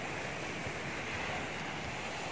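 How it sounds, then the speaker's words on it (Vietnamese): Sea waves wash continuously onto a beach with mountains nearby, a loud, dense roar of surf with wind rushing across the microphone and no pauses. "Đây là biển các bạn, bên biển bên núi đó"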